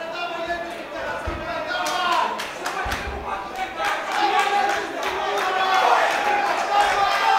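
Spectators roar and shout ringside at a Muay Thai fight as the bout heads into its fifth and final round, a dense, rising crowd noise broken by sharp thuds, with a commentator talking over it.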